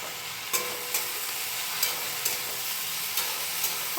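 Constant sizzle of black-eyed beans frying in a pan, punctuated by regular light scrapes and taps of a spatula stirring.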